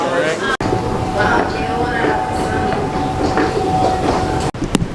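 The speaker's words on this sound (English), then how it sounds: "So now I am on the train back to Manhattan." Subway train riding toward Manhattan, a steady loud rumble of the car in motion with a faint whine, brief sharp clicks near the start and end; voices murmur under the noise.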